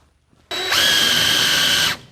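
A power drill whirs up to speed and runs steadily at a high, loud pitch for about a second and a half, then cuts off.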